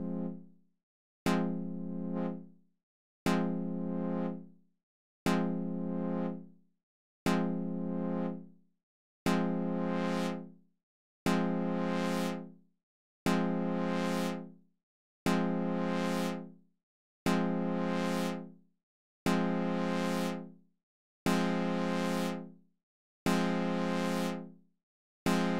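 Repeated dub techno synth chord stabs from Ableton's Wavetable, about twelve evenly spaced hits, each decaying with a brightening filter sweep and echo tails.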